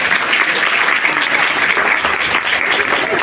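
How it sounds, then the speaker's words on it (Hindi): Sustained, loud applause at a paramedical college convocation ceremony, many hands clapping in a steady roar throughout, with a faint murmur of voices mixed in. "एक बार और जोर से तालियां बजा दें"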